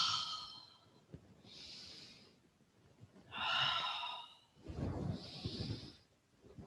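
Slow breathing during a chair yoga session, with separate airy inhales and exhales spaced a couple of seconds apart, close and soft, some breaths sounding more like sharp gasping sniffs, and no talk.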